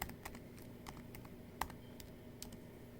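Keyboard keys clicking in a brisk, uneven typing rhythm with a few sharper strikes, close and fairly quiet over a low steady background hum, no talking.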